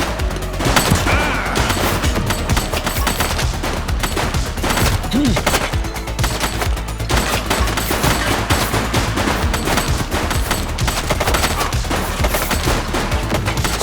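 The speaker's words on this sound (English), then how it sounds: "Shots fired!" Sustained gunfire in the police video game The Precinct, a loud, nearly continuous barrage of rapid shots and bursts with faint voices buried underneath.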